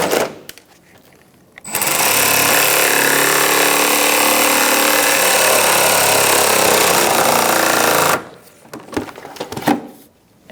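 A power tool snugs down the fasteners on a new windshield washer reservoir in a 2004-2009 Mazda 3. It makes one loud, continuous whirring burst of about six seconds, with quieter handling noises before and after.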